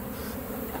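Honeybees at a hive built during a mobile home removal in Lakeland, Florida drone in a dense, continuous buzz, steady and close with no break.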